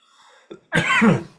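A person coughs after choking on food, a small catch followed by one loud, drawn-out close cough.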